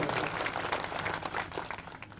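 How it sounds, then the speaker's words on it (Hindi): An audience claps to welcome a speaker to the dais at a Hindi-Urdu poetry gathering, a steady, moderately faint patter of many hands that fades slightly toward the end. "जोरदार तालियों से सर का स्वागत कीजिए"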